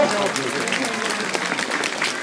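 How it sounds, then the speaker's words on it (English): Zoo audience applauding at a sea lion feeding at Dublin Zoo, a steady burst of scattered clapping from a crowd lasting a couple of seconds, with faint voices mixed in. "Give a little round of applause"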